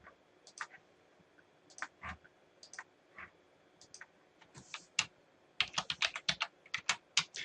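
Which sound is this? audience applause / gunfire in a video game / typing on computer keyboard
typing on computer keyboard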